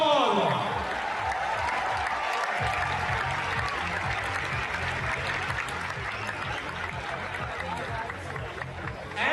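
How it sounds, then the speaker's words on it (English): A stadium crowd in Mumbai cheers and applauds as Rodrigo is introduced at a Messi event, a broad steady roar of clapping with a low rhythmic pulse running beneath it, heavy and continuous throughout. "Big round of applause, ladies and gentlemen,"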